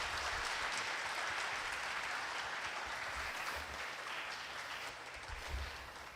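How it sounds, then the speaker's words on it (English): Steady applause from an audience honouring attorneys at a Michigan Supreme Court session held at Powers Catholic, a dense continuous wash of clapping that fades slightly toward the end. "if I could get a round of applause for our attorneys here today"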